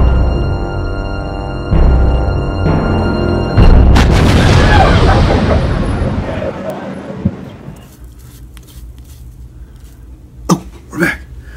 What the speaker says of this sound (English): We just staged a 12-gauge shotgun, double barrels, in the back of the set. Of course, we loaded it with blanks,